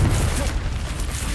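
A Confringo spell blast in Hogwarts Legacy, a deep booming burst with rumbling low-end that rolls on through the whole moment, loud and close.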